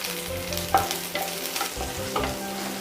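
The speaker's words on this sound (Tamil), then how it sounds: "இப்போ எண்ணெய் கொதிச்சிச்சுங்க. இதில் நம்ம வச்சுருந்த வெங்காயத்தில் பாதியை மட்டும் நீங்கள் சேர்த்துக்கோங்க." Sliced onions sizzle in hot oil for Kerala fish pollichathu, a loud, close frying hiss broken by several distinct stirring scrapes and clinks, with no voices.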